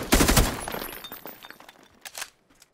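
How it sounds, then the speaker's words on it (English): Full hip-fire from a gun in PUBG: a rapid burst of loud, close shots that rattle for about a second, then thin into scattered fainter cracks and a last brief pop before quiet. "Watch it, just full hip fire."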